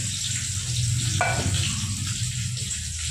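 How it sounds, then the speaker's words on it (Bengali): Hilsa fish frying in a pan makes a loud, steady sizzle and hiss up close, with a brief clink or scrape early on. "এদিকে ইলিশ মাছ ভাজা হচ্ছে"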